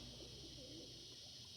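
Homing pigeons and show homers in a loft, soft low cooing under a steady hiss of background noise, faint and continuous.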